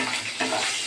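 Chopped green chillies frying in a pan, a short burst of close, steady sizzling with a faint stir partway through and no voices.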